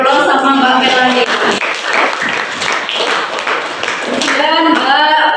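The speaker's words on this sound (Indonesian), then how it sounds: "kita beri aplaus sama Mbak Melani" Steady applause for Mbak Melani during a Problem Based Learning teaching practice session, filling the whole stretch with dense clapping while a voice talks over it at the start and again near the end.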